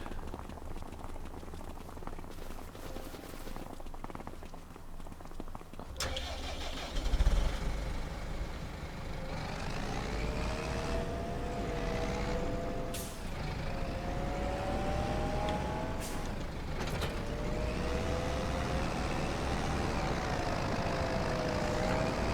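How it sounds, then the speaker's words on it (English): A tractor engine in Farming Simulator 25 drones steadily at low speed, a continuous rumbling hum with rising and falling tonal whine, fairly close and alone throughout. "Oh, we get a nice and slow tractor."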